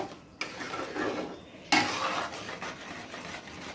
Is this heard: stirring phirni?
yes